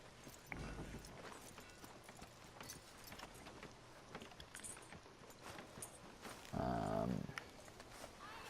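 Horse hooves clip-clop at a walk in the Red Dead Redemption 2 video game, soft and steady under faint ambient game sound, with a brief louder mechanical clunk near the end.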